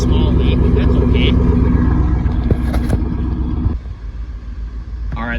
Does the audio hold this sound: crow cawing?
no